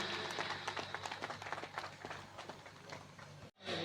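A crowd at a memorial first-death-anniversary gathering with a saints' assembly claps to welcome a minister to speak: a busy, steady patter of many hands that cuts off abruptly near the end.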